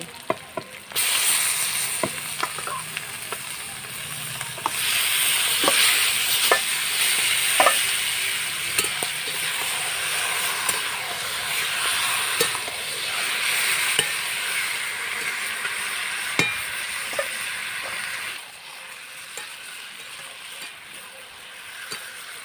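Marinated duck meat sizzles loudly in a hot pan, with a steady frying hiss and repeated sharp scraping clicks of a spatula stirring, close by, then the sizzle drops lower near the end; no talking.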